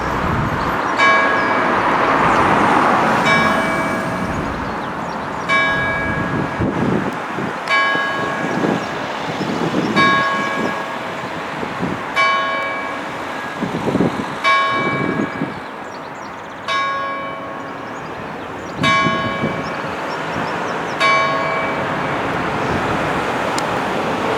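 A single church bell rings repeatedly at a steady, slow pace from a church beside busy main roads, with traffic noise rumbling underneath throughout.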